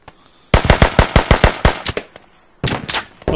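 Automatic rifle fire in the Squad video game: a loud close burst of roughly ten rapid shots, a short pause, then another quick burst, with no talking.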